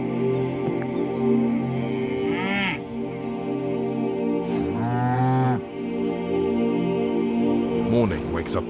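Cows moo several times, long drawn-out lowing calls rising and falling over a steady background hum, with a voice speaking between them.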